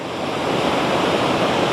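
Steady roar of surf and wind on a grey, rainy, windy beach near El Nido in the Philippines, a continuous loud wash of breaking waves with wind buffeting the microphone, no voices.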